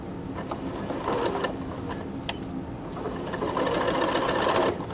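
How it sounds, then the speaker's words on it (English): A sewing machine runs steadily, stitching the 3/8 inch line of a French seam in fabric, a continuous close mechanical whir with brief pauses and no talk. "Alright, now I'm sewing at my 3/8 line."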